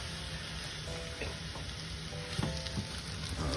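Pasta tossed back into a hot pot for a ground beef casserole, giving a steady close sizzle with soft stirring scrapes and a few light knocks.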